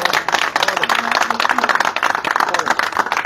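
Audience clapping at a Pakistani pigeon-flying (rooftop) contest results announcement, a dense burst of applause lasting a few seconds with voices mixed in.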